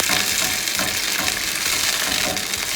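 Food stirred in an overheated pan while making pan-seared sea scallops, producing a loud, dense, continuous sizzle that fills the space close up with a faint scraping underneath.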